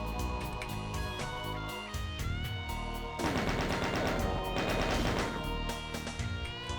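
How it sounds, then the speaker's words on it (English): Chaingunner firing at the player in Doom, a dense continuous rattle of rapid gunfire layered over game music, growing heavier and busier in the second half. "there's a chain gunner hitting me"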